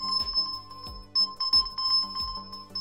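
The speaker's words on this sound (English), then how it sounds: "we have the search phone feature, which plays a loud tone on your phone." A loud find-my-phone alert rings from a phone, triggered by a OnePlus Band: a repeating electronic chime pattern of bright tonal beeps in quick bursts, close and clear with no speech.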